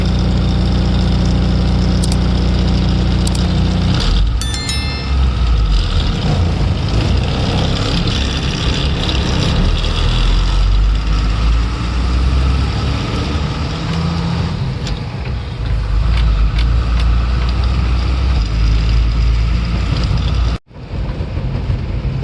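A vehicle stands idling in a queue at a Maharashtra RTO checkpost, its engine droning steadily and loud up close, with faint clicks and traffic around it before the sound cuts off near the end.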